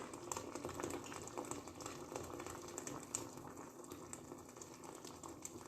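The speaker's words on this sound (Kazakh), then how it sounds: "қайнаған су құямыз" Boiling water poured into a soup pot of meat and yellow split peas, a steady rushing, splashing gush that runs without pause at close range.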